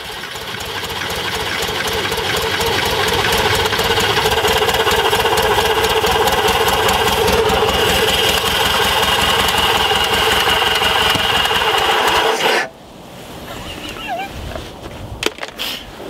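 Engine of a 1984-era VW Thing Type 181 that sat for 32 years, running loud and close with a steady rough, clattering idle for about twelve seconds before shutting off, leaving quiet ambience with faint small sounds.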